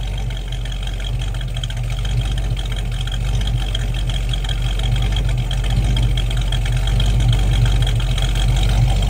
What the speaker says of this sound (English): Take a listen to that exhaust note.